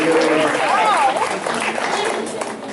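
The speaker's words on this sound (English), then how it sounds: "Let's give them a round of applause for helping us out today" An audience gives a round of applause at a Halloween senior health fair, steady clapping beneath a voice talking over it, easing off toward the end.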